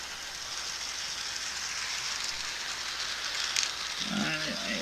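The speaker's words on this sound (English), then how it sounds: "So here comes the train again." A Hornby OO gauge model of the LMS Travelling Post Office train running along its track, heard as a steady close whirring rumble that swells slightly near the end, with no talking.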